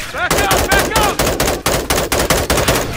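Rapid automatic gunfire from Call of Duty Modern Warfare 2 (2022), bursts of loud close shots repeating in a steady rhythm throughout, with shouted voices faintly under the shooting.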